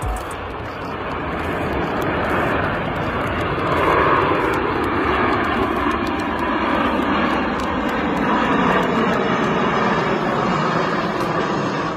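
Stunt aircraft roaring steadily overhead at a European air show, a loud continuous engine drone that swells slightly midway and holds throughout, with no voices.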